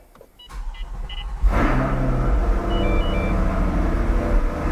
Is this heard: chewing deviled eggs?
no